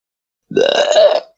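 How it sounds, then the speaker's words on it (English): A single loud, drawn-out burp lasting under a second, close to the microphone, rising then fading with a rough, croaky tone and no talking around it. "Not a good burp."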